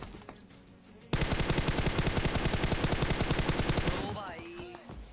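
M4 rifle spraying full-auto in PUBG Mobile: a fast, steady stream of rapid shots bursts in after a quiet second and runs unbroken for about three seconds, loud and close, then fades.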